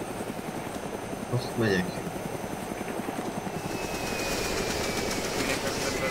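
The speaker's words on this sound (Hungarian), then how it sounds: "Helikopter landing van." Helicopter rotor and engine drone from a landing helicopter in the DayZ Epoch game, a steady loud thrum throughout with a brief spoken remark over it.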